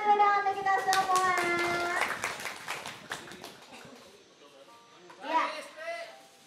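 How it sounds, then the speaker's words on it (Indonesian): A small group claps at a building-materials training event for Griya Samudra and Propan, a brief burst of close claps mixed with speaking voices, dying out after a few seconds as talk and a voice continue. "Tepuk tangan dulu untuk kita semua."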